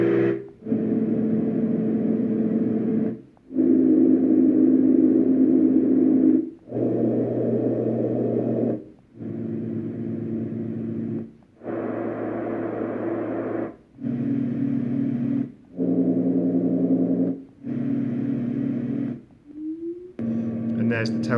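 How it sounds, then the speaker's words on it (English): A sequence of steady whooshing fan drones from a LectroFan Evo white noise machine, each running a couple of seconds before cutting off, with brief silences and slightly different tones between them. "So these are the fan sounds."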